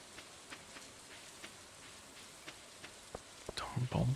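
Rain falling in Stardew Valley, a soft steady patter with scattered droplet ticks, faint and distant, followed by a brief louder burst near the end.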